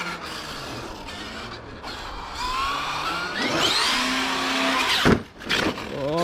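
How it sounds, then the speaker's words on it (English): An X-MAXX RC truck runs with its motor whining and climbing in pitch under gritty rasping from the gears, ending in a sudden harsh crunching burst; no speech. "Oh no, I heard a grind"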